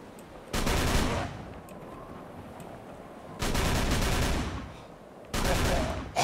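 Tommy gun bursts in the Call of Cthulhu: Dark Corners of the Earth video game, three loud sustained volleys of automatic fire separated by brief quieter gaps, with no talking.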